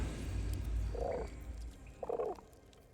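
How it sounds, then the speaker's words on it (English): A frog in Baldur's Gate 3 gives two short croaks about a second apart, over a low game ambience. "I will use a frog."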